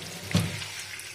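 Running kitchen tap water pours over food being washed in a sink, a brief soft splash and flow heard close by with no talk.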